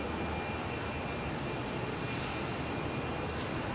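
An Emirates airliner on runway 27R at London Heathrow gives off a steady, broad jet roar that stays at an even level for the whole stretch, with no voices.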